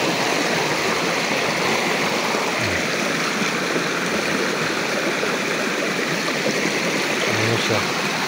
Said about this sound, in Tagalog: Tabing sapa.